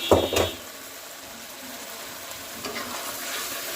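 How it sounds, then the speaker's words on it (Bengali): Taki fish pieces, heads and a few whole fish, sautéing in a pan for a bottle gourd curry, a brief loud clatter of stirring at the start giving way to a steady, moderate sizzle. "মাছগুলো দিয়ে কষাবো"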